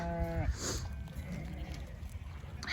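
A flock of sheep being herded before lambing gives a wavering bleat at the start, then further bleats and shuffling follow at a distance, fainter and mixed with outdoor noise.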